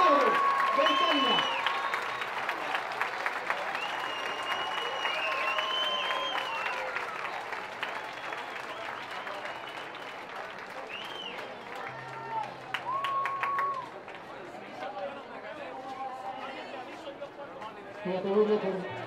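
A crowd applauds at the final of the San Luis Potosí Challenger tennis tournament, with clapping and cheering continuing under a loud announcer's voice and crowd chatter throughout.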